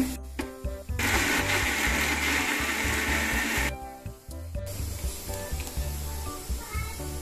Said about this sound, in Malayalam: നമ്മൾ കൂഴച്ചക്കയുടെ ചുളകളൊക്കെ നന്നായിട്ട് മിക്സിയിലിട്ട് അരച്ചെടുത്തിട്ടുണ്ട്